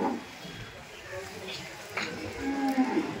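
Gir cows and crossbreeds at a cattle market in Dhule low faintly in the background, a short moo rising near the end beneath steady talk from a man nearby.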